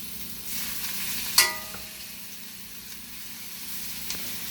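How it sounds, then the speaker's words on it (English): Blackened chicken breasts hit a hot skillet with a sharp sizzle, followed by a quieter steady frying hiss and a small clink near the end. "let me get a sizzle, and place my chicken breasts nice and evenly"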